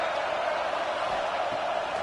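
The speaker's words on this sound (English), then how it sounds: "This crowd rising up" Stadium crowd at a college football game between Penn State and Texas A&M, a steady roar from a large audience swelling as fans rise to urge on their defense, continuous and broad with no clear individual voices.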